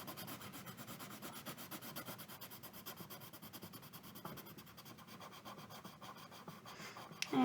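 Pencil sketching tree branches on paper, a steady close scratchy rubbing with quick repeated strokes throughout, no talk.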